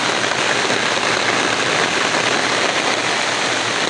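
Heavy rain pours steadily in the open during a fishing trip, with thunder and lightning in the storm. A dense, unbroken hiss holds at one level throughout and nearly fills the range, and no voice is heard.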